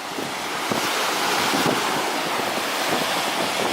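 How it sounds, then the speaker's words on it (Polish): Ocean waves wash and surge continuously, mixed with gusty wind buffeting the microphone; no voices. "Pie piękne fale."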